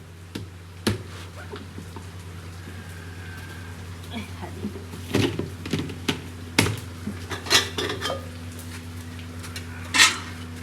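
Tadka being prepared in a pan: sharp metallic clinks and scrapes of utensils against the pan come in irregular bursts, growing busier toward the end over a low steady hum, with a voice talking intermittently.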